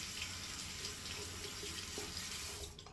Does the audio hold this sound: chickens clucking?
no